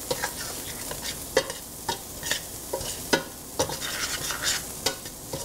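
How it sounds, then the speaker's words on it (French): Onions and garlic stirred in a frying pan for a lamb tagine, a steady sizzle under repeated close scraping strokes of a utensil against the pan, roughly one every half second. "Je mélange le tout."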